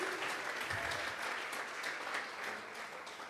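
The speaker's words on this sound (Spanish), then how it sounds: "Vamos a regalarle ofrenda de palmas al Dios de la gloria." Applause from a congregation during a Sunday church service, a steady dense patter of many hands clapping that fills the whole stretch without speech.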